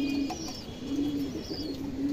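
An old blood pigeon with black lacing coos in soft, low, repeated rolling notes, close by and steady, with no voices.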